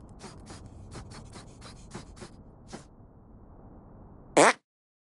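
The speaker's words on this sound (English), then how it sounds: "Make your fart detonate behind me." A brief, loud fart blast from South Park: The Stick of Truth lands near the end, following soft rhythmic in-game background noise and a short lull.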